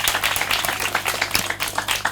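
An audience at an evening storytelling show applauds, a dense, steady patter of many hands clapping close by and sustained throughout.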